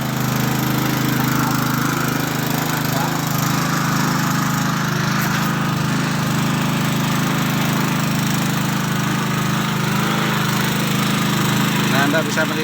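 A simple homemade well-drilling rig runs with a steady, loud motor drone and a constant low hum, with no pauses and no speech for the whole stretch.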